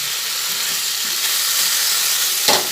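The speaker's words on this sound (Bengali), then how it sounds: "মিনিট মতো মশলা আর মোচা নাড়াচাড়া করে দিলাম" Banana flower and spices fry in a pan, giving a loud, close, steady sizzle and a brief stirring scrape near the end.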